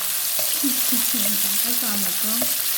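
Onions frying in oil in a pan, a steady, close and loud sizzle throughout, with a faint low voice murmuring underneath.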